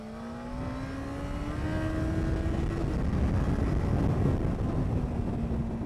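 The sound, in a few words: motorcycle accelerating out of a bend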